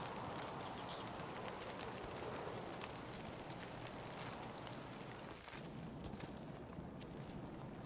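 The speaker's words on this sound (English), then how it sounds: "I hear the crackling of the rain" Rain falls in Escape from Tarkov, a dense, steady crackling hiss that fills the whole stretch at low volume, with a few faint sharper ticks near the end and no talk.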